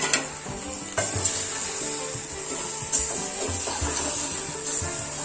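Chili powder sizzles and fries in hot oil in a pan for gongura pachadi, a steady close crackle with occasional stirring scrapes and utensil knocks, no voices.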